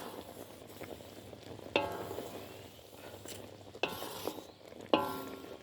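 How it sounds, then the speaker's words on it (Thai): Bananas simmering in sugar syrup over low heat, giving a soft steady bubbling sizzle with a few sharp scraping knocks as a utensil stirs against the pan, quiet and close, without speech. "เคี่ยวไปเรื่อยๆ ไฟอ่อนนะคะ ช่วงนี้ลดไฟอ่อน เคี่ยวจนน้ำตาลคลุกคลิกอยู่กับกล้วยเลยนะคะ"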